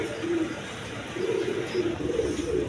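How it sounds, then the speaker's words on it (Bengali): High-flying Giribaz pigeons kept as a pair coo softly and close by, a few low, throaty murmuring coos repeating over light background noise. "এখানে এক পেয়ার হাই ফ্লাইং গিরিবাস কবুতর আছে"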